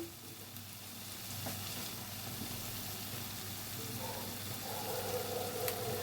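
Spice paste for a vegetarian cabbage dish fries in oil with a steady, soft, close sizzle and hiss that holds throughout without a break.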